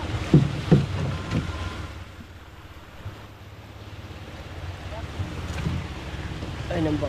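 A small boat rides on open water near a reef, with a steady low motor drone, wind buffeting the microphone and water slapping, while people talk now and then in the foreground.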